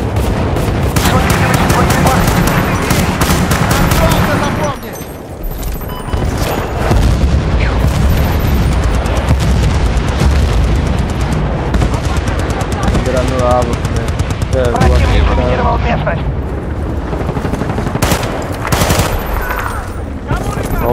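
Loud, sustained machine gun fire in Battlefield: Bad Company 2 rattles in long rapid bursts, mixed with heavy booms and short pauses, while voices can be heard faintly beneath the battle.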